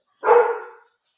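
One short, loud bark from a protective house dog, close by and alone against silence.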